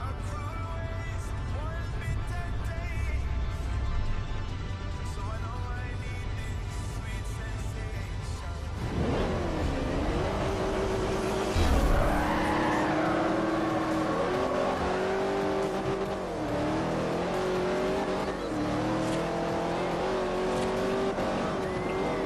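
A car engine in the Forza Horizon racing game revs hard and loud, rising and falling through gear changes, with tires squealing partway through, the engine note dominating steadily throughout.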